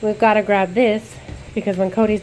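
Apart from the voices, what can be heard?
No distinct noise like a dog, phone or traffic.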